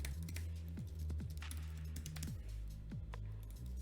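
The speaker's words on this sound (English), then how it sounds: "we're just going to type in random stuff" Close, fast typing on a computer keyboard with quick irregular key clicks and a few sharper taps, heard alone with no voices.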